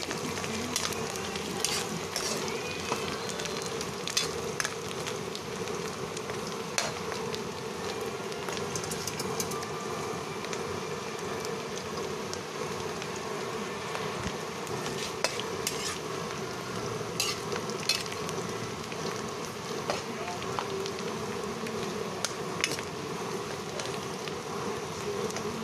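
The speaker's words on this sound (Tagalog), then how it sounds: "Kunin na natin yung sapsap na dinaing. Kailangan lang dyan mainit na mainit yung mantika nyo." Dried salted sapsap fish fries in very hot oil, a steady close sizzle and crackle with small pops that continues throughout, no talk.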